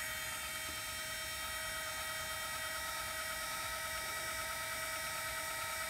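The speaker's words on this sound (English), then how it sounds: "when you push the button to turn the DC on, you're going to hear the noise" An electric motor whines steadily as it runs the electronic parking brake caliper on a 2018 Mitsubishi Outlander. The high-pitched drone is close and constant, with no talking.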